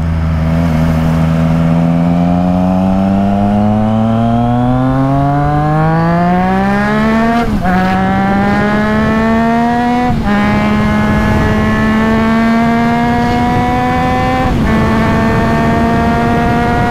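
A Triumph Trident 660 motorcycle on its stock exhaust, held in second gear, revs steadily upward in one long loud pull, then climbs again through a few quick gear shifts. The engine sits close and loud throughout, with no other sounds.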